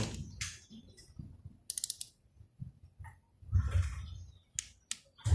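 A torque wrench set to 15 newton-metres clicks while tightening the cylinder head nuts of a Honda Nova Dash 125 motorcycle, giving sparse ratcheting ticks and a few sharp clicks up close in a quiet workshop.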